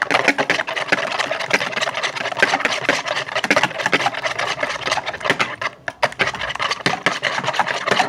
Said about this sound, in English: Now we're going to whisk this together.